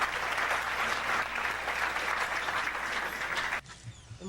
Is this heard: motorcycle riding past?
no